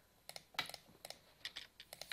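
Quiet, close keystrokes on a computer keyboard come in short irregular bursts of clicks with brief pauses between them, and no voices are heard.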